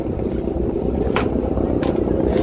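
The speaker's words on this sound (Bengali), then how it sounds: "হাঁটি হাঁটি পা করে লঞ্চ এগিয়ে যাচ্ছে চাঁদপুরের অভিমুখে।" A passenger launch on a wide river bound for Chandpur, its engine giving a steady low rumble throughout with constant water wash and a couple of faint brief higher noises.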